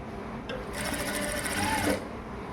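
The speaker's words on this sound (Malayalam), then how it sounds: "ലേസ് മൊത്തം നമ്മൾ സ്റ്റിച്ച് ചെയ്തിട്ട് കൊടുക്കുക" A sewing machine stitches lace onto a kurti collar in one steady, buzzing burst of rapid stitching lasting just over a second, close and clear above a quiet room.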